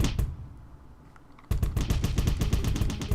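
A spike gun fires in the video game Cally's Trials, with a brief burst, a lull, then a dense rapid stream of sharp clattering shots, loud and close.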